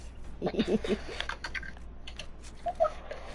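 Fast, intense keystrokes clatter on a computer keyboard in quick bursts during a chaotic group chat, fairly close and moderately loud, with faint background noise and no speech over it.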